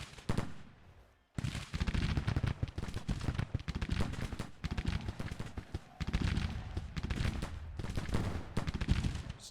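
Civil War infantry rifle fire in the Grand Tactician strategy game: dense, continuous volleys of musketry crackling in overlapping bursts, briefly dropping out before resuming loud and sustained.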